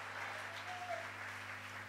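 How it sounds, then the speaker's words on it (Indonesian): A church congregation keeps up a long, steady patter of applause during a sermon, faint and distant, with a low hum beneath it. "Kita berikan tepuk tangan yang panjang bagi Tuhan,"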